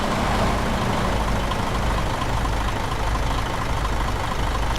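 A Mercedes-Benz Actros 320 truck in Euro Truck Simulator 2 idles with a steady, low, clattery diesel rumble, continuous and close throughout the short stretch, with no talk.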